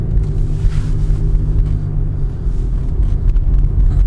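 Steady low engine and road rumble from a 2005 GM car with a faulty 4T65-E automatic transmission, heard from inside while it drives and picks up speed, continuous and fairly loud with no talking.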